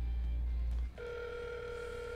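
A telephone at a car dealership rings out unanswered, a steady two-tone ringback buzz holding on after a brief low click, with no one picking up and no talk.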